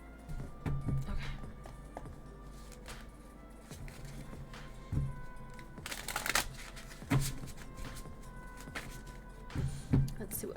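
A tarot card deck shuffled by hand, giving repeated soft papery riffles and flutters with a few sharper slapping bursts, close up, with a voice faintly present underneath.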